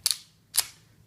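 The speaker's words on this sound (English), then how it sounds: "So the slide cycles, that's the reset right there." Ruger LCP II pistol dry-fired, a sharp metallic snap of the trigger break followed about half a second later by a second crisp click as the slide cycles, both close and distinct.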